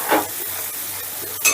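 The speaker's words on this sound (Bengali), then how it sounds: "এবারে গ্যাসের আঁচটা বাড়িয়ে দিয়ে মশলাটাকে আমি 3-4 মিনিটের মতন কষে নেব।" Ground spice paste sautéing on a high flame, a dense sizzle punctuated by two sharp spatula scrapes against the pan at the start and end.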